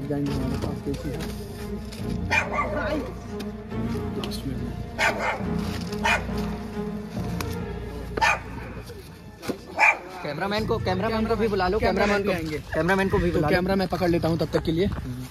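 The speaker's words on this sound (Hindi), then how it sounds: "कुत्ते तक भी भौंक रहे हैं।" Dogs bark at night near a graveyard, scattered yaps and bow-wows at a moderate distance, mixed in with people talking close by.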